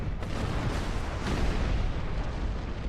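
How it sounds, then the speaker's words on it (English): Torpedoes streak and explode in a naval video game, a steady rumble of distant booms and bursts rolling continuously with no clear gaps. "All them torpedoes flying."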